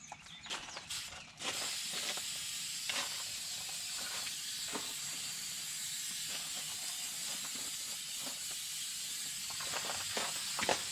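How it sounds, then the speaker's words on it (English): Krylon rust-preventing black primer sprayed from an aerosol can onto an excavator ripper attachment, a sustained close hiss broken by a few short pauses and clicks. "this stuff, the rust preventing black primer from Krylon, it sprays clear and then it turns black"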